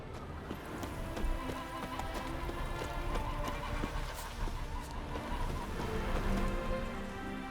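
Roach the horse's hooves clip-clopping in the video game The Witcher 3, a steady stream of hoof falls over a dense, even background of ambient noise, continuous and moderately loud throughout.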